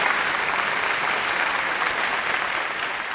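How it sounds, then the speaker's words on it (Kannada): An audience at a Kannada TV quiz show event claps steadily, a dense, even wash of applause that holds for a few seconds and tapers slightly. "ಬರಲಿ ಜೋರಾದ ಚಪ್ಪಾಳೆ"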